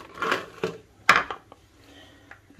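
Ice cubes drop into a blender glass while a Miami Blue cocktail is prepared, making a few loud, sharp clattering knocks separated by brief quiet gaps.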